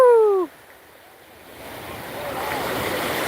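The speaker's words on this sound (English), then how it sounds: "These waves are just about perfect for these little ones." Ocean waves rolling onto a beach where small children play, surf rising from quiet to a building wash after a brief whoop of a voice at the start, with wind across the microphone.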